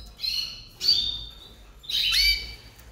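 Birds in a home aviary, where a white canary is kept, give three bright, close chirping squawks, each about half a second long, separated by short quiet gaps.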